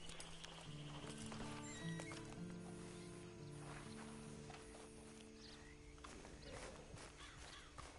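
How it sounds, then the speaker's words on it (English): Horse hooves in Red Dead Redemption Online clip-clop at a walking pace over a low musical backdrop, with a faint snort or whinny mixed in; no one speaks. "Then you better get on this horse."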